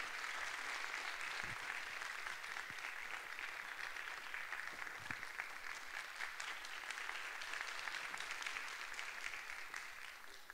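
An audience at a children's choir concert claps loudly and steadily. The applause is continuous and dense with no voices over it, welcoming the choir to the stage.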